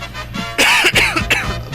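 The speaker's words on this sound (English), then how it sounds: "A bit of a cough." A single sharp cough, loud and close, followed by a couple of quick throat-clearing bursts within about a second.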